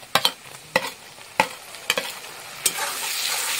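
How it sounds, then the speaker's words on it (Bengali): Spice masala of turmeric, Kashmiri red chilli powder, ginger and garlic is stirred in hot oil, with sharp spoon scrapes and knocks at irregular intervals over a faint, steady sizzle. "মশলার তেলগুলো দিয়ে ভালো করে কষিয়ে নেব।"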